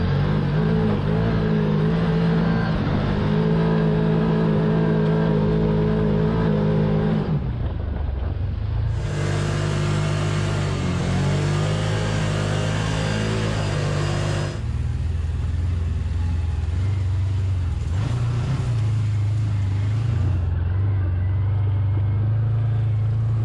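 A vehicle on Maxxis Bighorn 3.0 tires crawls up a steep mountain trail at walking pace, its engine a steady, droning hum that shifts in tone as the load changes, with no talk.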